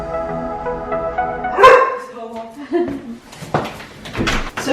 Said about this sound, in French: Ce chien fait peur à tous les livreurs.